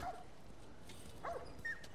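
Faint dog barking from the video game The Last of Us: two short, soft yips spaced apart over a low, quiet background, with no talk over them.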